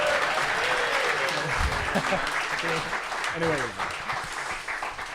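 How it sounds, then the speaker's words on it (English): Sustained clapping from a live studio audience for an Arsenal fan show host and BBC Radio London commentator continues under someone briefly talking before slowly thinning out. "You got to keep the applause going."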